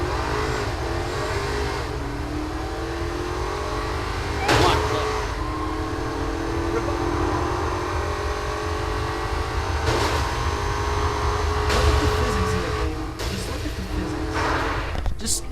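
Engine of a car in the video game Saints Row IV driving a long stretch, a steady looping drone with shifting pitch and occasional bursts, heard alongside a voice.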